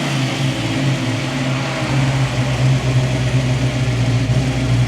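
A Foxbody car engine fitted with a GM IAC valve idles steadily at close range, a continuous low droning hum with a faint, even pulsing and no talk over it.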